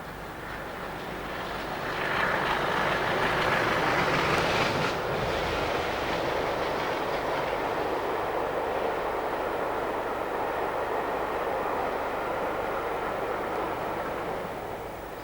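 Class 33 diesel locomotive 33021 hauling excursion coaching stock from the Mid-Hants line toward Waterloo, a broad rumbling approach that swells after a couple of seconds, then a sustained rolling roar of passing coaches.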